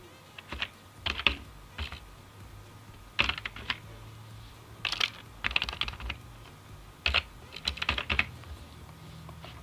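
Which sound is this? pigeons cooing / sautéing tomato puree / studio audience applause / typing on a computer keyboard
typing on a computer keyboard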